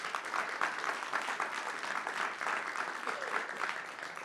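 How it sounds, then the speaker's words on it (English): Audience applause at a college's State of the College address, a steady wash of clapping that holds at moderate level throughout. "So give yourselves a round of applause"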